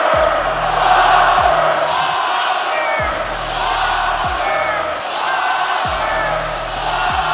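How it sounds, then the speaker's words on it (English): Basketball arena crowd at a Knicks–Pacers conference finals game chanting "flopper" in a steady rhythmic roar, with a ball bouncing repeatedly on the hardwood beneath the chant. "Crowd chanting flopper at"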